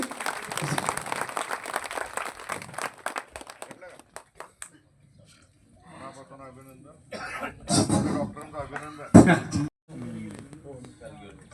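A crowd claps at a gram panchayat honouring ceremony in Uchithane village, Satara district, with dense applause at first, followed by scattered claps, coughs and talk.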